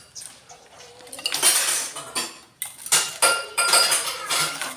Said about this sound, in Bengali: তো বাঁধাকপি নিয়ে বসলাম, যে বাঁধাকপি কাটার পর তারপর আমি রান্না বসিয়ে দেব।